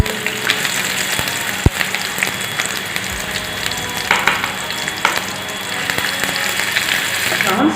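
Onion sizzles and crackles steadily as it fries in hot oil in a home kitchen, a continuous close hiss with occasional sharp pops and stirring clatter.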